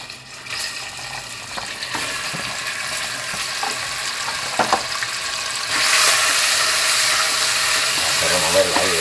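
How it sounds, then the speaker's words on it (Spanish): Meat for baked rice sizzles and fries in a hot pan, a steady crackling hiss with occasional stirring clatter that grows louder and brighter partway through, with a voice briefly audible near the end. "Vamos a echarle ahora la carne."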